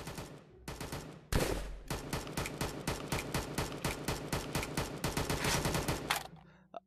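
Rapid bursts of video game gunfire crackle nearly nonstop for about six seconds, loud and close, with brief gaps between volleys before fading out.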